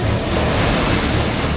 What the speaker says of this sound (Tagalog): Ayan, tingnan nyo, ang hampas ng alon